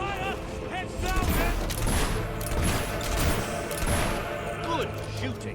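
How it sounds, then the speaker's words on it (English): Gunfire rattles through a battle in the video game Fable 3, dense and continuous under music and shouting voices. "We're under fire."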